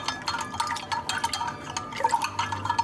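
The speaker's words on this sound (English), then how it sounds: "So into our 1 cup of hot water, a teaspoon of honey, stir that in real quick" A spoon stirs a teaspoon of honey into a cup of hot water, giving rapid light clinks against the cup over soft liquid swirling. The clinks come in a quick, irregular rhythm, close and clear, with no voices.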